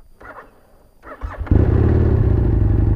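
A Husqvarna Nuda 900R motorcycle engine with stock exhaust cranks briefly, then catches and settles into a loud, steady idle that fills the rest of the clip.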